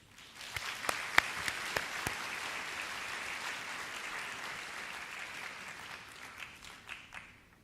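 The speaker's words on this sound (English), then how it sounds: "Let's give Mufika an encouraging applause" Graduation-ceremony audience applauding for a young student speaker, a steady wash of many hands clapping with a few sharper close claps near the start, sustained and moderately loud before fading slightly toward the end.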